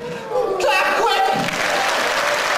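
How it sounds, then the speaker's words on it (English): A live comedy audience breaks into a burst of clapping that swells quickly and carries on steadily, mixed with some cheering and a voice near the start. "Clap quick!"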